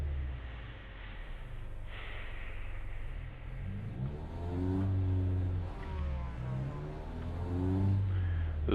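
A race car engine in a racing game revs at a standing start, held a little under 3,000 rpm for the launch. A steady low growl swells into rising and falling revs, loud and close, with no talk.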